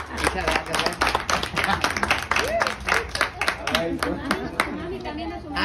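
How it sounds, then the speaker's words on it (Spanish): Audience at a quinceañera party claps and applauds in a dense, continuous burst, with voices talking and chattering over the clapping throughout. "ya un fuerte aplauso para ustedes"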